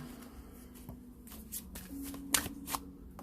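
Tarot cards being shuffled by hand, a soft riffling patter with a few sharper slaps and flicks standing out, close and fairly quiet over a steady low background hum.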